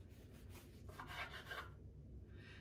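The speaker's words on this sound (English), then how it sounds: "I'm going to cut a couple of slices" A knife sawing through slices of a freshly baked, moist, still-hot Croatian nut roll, giving soft rubbing, rasping strokes up close with short pauses between them.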